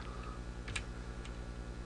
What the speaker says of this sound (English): You may wonder how I'm typing so fast.